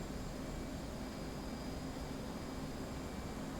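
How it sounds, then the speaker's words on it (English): An F-18 jet in DCS World rolls down an airfield runway for takeoff, with a steady, loud, broadband engine roar and whine throughout and no talking. "that is the takeoff from an airfield and an F-18"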